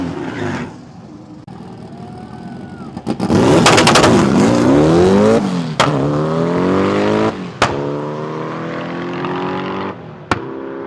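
A VW Karmann Ghia engine running with launch control idles, then revs up hard and holds near the limiter, its pitch wavering and falling, broken by several sharp pops before settling back.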